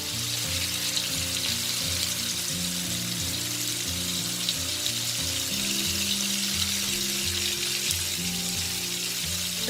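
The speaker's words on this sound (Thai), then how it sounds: "นี่ค่ะใส่ลงทอดเลยค่ะ ให้ใช้ไฟกลางมาทำก่อนนะคะ" Naem pork ribs coated in flour fry in oil over medium heat, giving a constant close hiss and crackle with a low, steady melodic tone running underneath.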